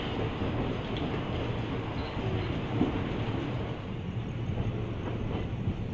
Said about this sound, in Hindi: प्लेटफॉर्म नंबर 5 से हमारी ट्रेन डिपार्ट हो चुकी है जबलपुर जंक्शन रेलवे स्टेशन से